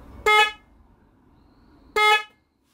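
Two short, loud honks from a newly mounted horn on a lifeboat mast, spaced about a second and a half apart, each a bright blaring tone with quiet background between.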